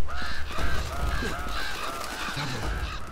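Crows caw in the video game Uncharted: Drake's Fortune, a flock giving repeated harsh, overlapping calls at a fairly close range over low ambient noise.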